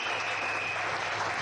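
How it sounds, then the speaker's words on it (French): A church congregation applauding and cheering for Jesus, a dense, continuous burst of clapping from a large crowd, loud and close, with no speech over it. "Acclame Jésus très fort"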